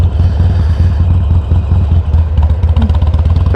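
An engine idles high, a loud, steady, rapid lumpy thrum with regular pulsing beats close by, with no voices.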